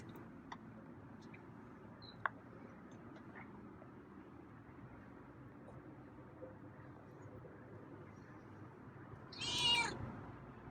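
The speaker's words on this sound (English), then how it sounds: "It's a nice meow." A feral cat gives a single short meow near the end, preceded by a quiet room with faint scattered ticks and clicks.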